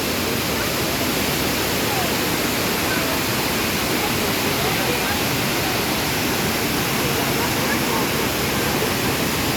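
Tomara Waterfall in the Turkish countryside sends up a loud, continuous roar of falling water that stays close and unbroken from start to finish.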